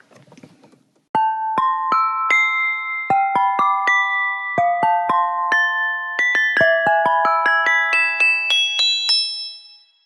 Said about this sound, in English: So let's begin with the beer glass.